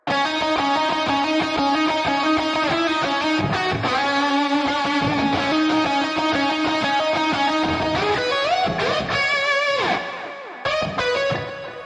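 An alternative pop rock guitar pattern, distorted and effects-laden, plays loud and sustained within a full band mix before thinning out near the end.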